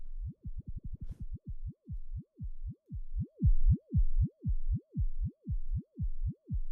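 Reaktor synthesizer patch modulated by an LFO and FM, producing a steady series of deep, throbbing heartbeat-like pulses that start quick and uneven, then settle into a slower even rhythm, loud and clean with no voices.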